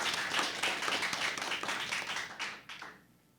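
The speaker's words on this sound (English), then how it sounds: "Give her a round of applause." Audience clapping for a student contestant at a junior science quiz, a short burst of dense applause from a crowd that fades away over about three seconds, fairly faint and distant.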